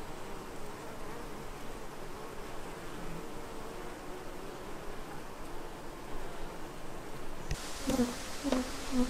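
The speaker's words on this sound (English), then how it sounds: "A very, very large bumblebee." A very large bumblebee buzzes steadily near a beehive during a hive inspection, a continuous droning hum over outdoor background noise, growing louder and rising in pitch toward the end as it passes close.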